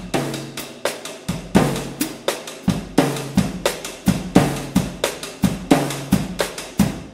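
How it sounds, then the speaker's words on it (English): A busy cumbia villera drum pattern of dry, clicky rim hits over thumping kick drum, steady and fast, played close with no talking. "you could play it on the rim of the drums."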